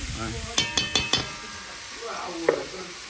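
Lobster frying in a small amount of oil in a pan for a Creole-style dish: a soft sizzle under a quick run of four sharp utensil clinks against the pan, then a single later clink.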